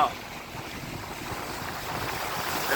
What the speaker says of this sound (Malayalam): ഫുള്ള് മഴ റോഡ് മൊത്തം നിറഞ്ഞു.